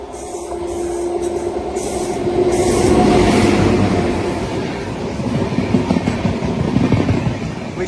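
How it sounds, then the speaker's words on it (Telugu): The Visakha Express rolls past in Telangana near Miryalaguda, a loud steady rumble of rail cars with clickety-clack wheel beats that swells in the middle and stays strong to the end, with no voices. "విశాఖ ఎక్స్ప్రెస్."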